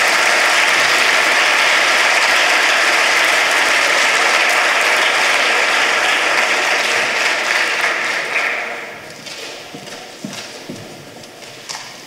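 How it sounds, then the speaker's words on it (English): Audience at a science award ceremony giving a loud, sustained round of applause, dense clapping that holds steady for several seconds before thinning out to scattered claps. "Give them one more round of applause."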